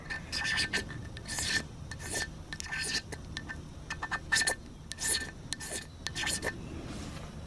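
A Mora Garberg knife scraping a magnesium rod into shavings, with repeated short, bright rasping strokes up close; a person talks quietly through part of the scraping.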